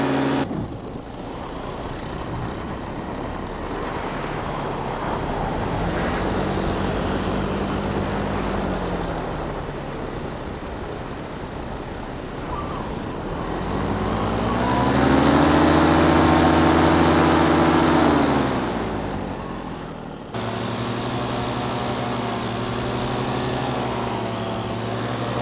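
A light airplane engine runs steadily before a takeoff from a short, roughly 100-foot backyard strip by a ditch, its droning pitch rising and then easing off, loud and close throughout with no voices.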